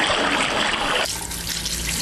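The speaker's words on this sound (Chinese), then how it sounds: "厕所洗手台前搭配水龙头的水流声" A played sound effect of tap water running into a bathroom washbasin gives a steady rushing stream whose tone shifts partway through.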